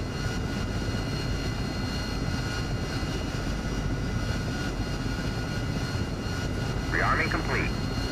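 A DCS flight simulator aircraft engine drones steadily during takeoff, a constant mid-loud engine roar throughout with a brief chirpy tone near the end.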